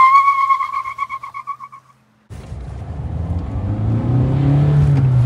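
Kia Sonet HTX 1.5 diesel with manual gearbox accelerating at full power, a rising engine roar that builds steadily and loud after a short tonal chime and a brief gap.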